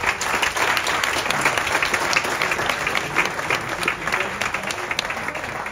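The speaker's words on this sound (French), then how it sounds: "on peut l'applaudir encore une fois." Audience applause at a hypnosis show, dense sustained clapping from a crowd filling the room at steady loudness, with a few faint voices mixed in.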